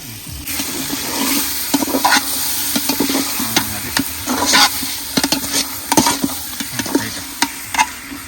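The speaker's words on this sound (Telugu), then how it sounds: "చికెన్ అయితే వేసేసి బాగా ఫ్రై అయితే చేసేద్దాము" Chicken pieces sizzle in hot oil with masala for a biryani, a steady frying hiss broken by sharp scrapes and clacks as a spoon stirs the pan, close and alone without talk.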